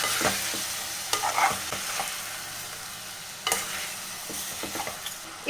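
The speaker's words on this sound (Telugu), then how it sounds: "ఇప్పుడు దీంట్లోకి కొంచెం పసుపు కూడా వేద్దాం కొంచెం సాల్ట్ ఇప్పుడు వీటిని బాగా కలిపేటట్లయితే కలిపేసుకుందాం" Spoon stirring masala with turmeric and salt in a frying pan while cooking gongura mutton, giving a steady sizzle with intermittent scraping strokes and clicks, close and moderately loud, no talking.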